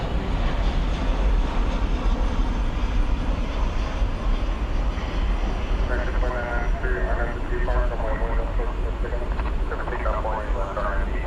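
The airliner 'Kit the Kermode Bear' arrives from Ontario, California, at DFW after dark, its continuous jet roar running under a voice that talks through the second half.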